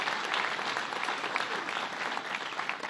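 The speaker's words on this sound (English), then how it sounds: "Let's give the supervisor a big round of applause." A crowd applauds a town supervisor at a citizen preparedness training event in Bethpage, with dense, even clapping sustained throughout at moderate distance.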